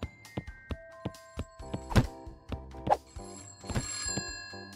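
A payphone in a video game rings in a quick electronic trill, mixed with several soft thunks and clicks over a few seconds, fairly quiet.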